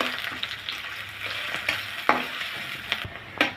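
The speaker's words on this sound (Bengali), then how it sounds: "পেঁয়াজটা একটু ভেজে নিব।" Chopped onion and green chili sizzle steadily in hot oil in a kadai, with a bright continuous frying hiss broken by a few sharp clinks and scrapes of a spatula against the pan.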